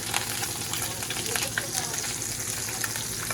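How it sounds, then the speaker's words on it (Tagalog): Steady bubbling and sizzling from a pot of fish soup with sponge gourd and moringa boiling on the heat, a dense crackling simmer with faint voices in the background. "Kumukulo na siya guys."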